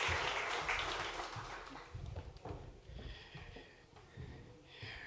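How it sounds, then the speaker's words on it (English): Audience applause at the South Summit 2016 startup pitch competition, a broad hiss of clapping that starts loud and gradually thins and fades over several seconds. "Round of applause for him."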